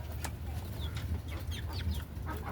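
Native hens and roosters clucking and calling in a farmyard, several short bird calls over a steady low rumble, fairly faint.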